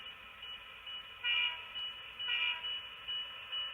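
Model Penn Central train running on a layout, a steady hum with rhythmic swelling pulses and faint squealing tones, moderately quiet and continuous.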